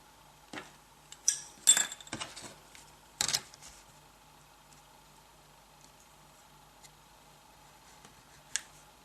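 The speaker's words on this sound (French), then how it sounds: "je vais couper ce qui dépasse avec mon cutter" A utility knife trims card paper in a few short scraping strokes and sharp snicks near the start, then a quiet pause with only a faint tap at the end.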